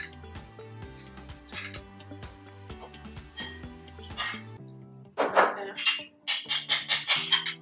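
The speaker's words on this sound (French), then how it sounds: "On bat les œufs, on mélange." Salted eggs beaten in a bowl with a utensil for an omelette for Cantonese fried rice, a rapid rhythmic clinking whisk following lighter dish clatter, over soft background music.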